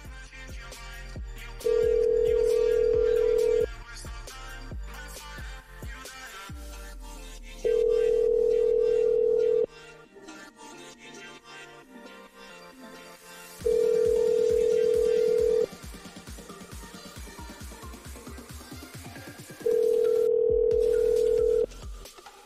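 A telephone call rings through, four long, steady ring tones evenly spaced over the span, each about two seconds, loud against a quieter background of music and low voices.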